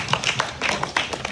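An audience at a Boys to Men youth event claps in a brief, close burst of quick, even hand claps that lasts only a moment.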